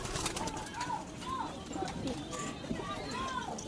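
Racing pigeons coo softly in a loft, several short rolling calls spread across the stretch with shuffling and faint voices in the background.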